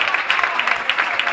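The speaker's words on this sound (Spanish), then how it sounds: "recibirlas con un fuerte aplauso al excelentísimo alcalde del Ayuntamiento de Antequera" Applause greeting the mayor of Antequera's town council at a Sunday-afternoon festival event in Antequera: a dense, steady wash of many hands clapping at moderate distance, lasting the whole brief moment without a break.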